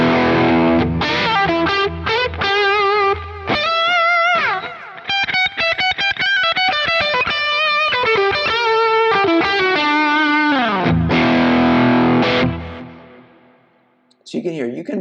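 An electric guitar on the humbucker pickup plays through fuzz pedal models on a Quad Cortex, giving a thick, saturated distorted tone with chords, fast single-note runs and held notes, loud and close, ending with brief silence and a few picked notes.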